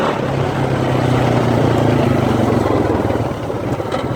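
A quad bike engine revs hard in third gear while churning through thick mud, a loud, steady droning roar that holds nearly constant for several seconds with a slight dip near the end.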